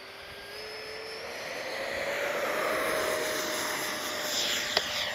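A 70mm electric ducted fan RC F-16 jet flies overhead, a steady whooshing whine that rises and sweeps with the pass, moderately distant, no voices.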